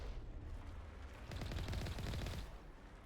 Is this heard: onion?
no